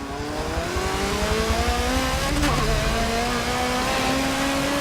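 A race car in Forza 7 revving hard as its tires break loose under acceleration, a steady rising engine whine with a brief sharp burst midway, no talk.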